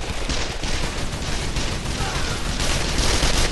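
Automatic weapon fire in the video game Call of Juarez: The Cartel, a dense, continuous burst of loud gunshots filling the whole stretch without pause.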